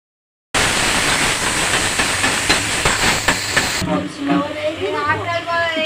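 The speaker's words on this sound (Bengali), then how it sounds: "নেড়েছে এবার ভাজতে থাকবো" Mashed kochu flower paste fries in a pan with a loud, steady hiss close up that eases after a few seconds, while a voice talks over it.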